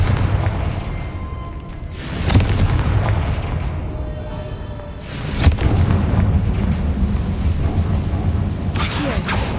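A fire-based explosion spell going off in a Harry Potter video game, heard as several heavy booming blasts near the start, middle and end, each with a sharp crack and a rumbling tail, over a steady low background of game noise.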